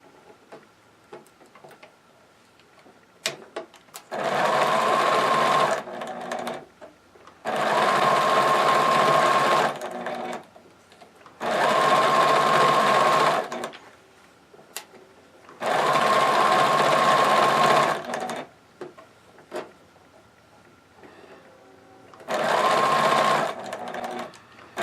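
A sewing machine backstitches a stocking in five loud, even bursts of whirring stitches, each several seconds long, separated by pauses filled with faint clicks and handling noises.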